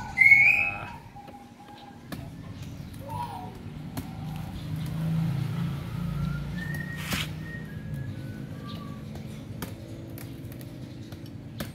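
Birds singing outdoors, scattered short chirps and whistled notes, some high and clear, over a soft low background hum.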